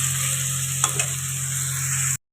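Spices fry in oil in a pan with a steady, close sizzle, while a couple of brief stirring scrapes break through before the sound cuts off.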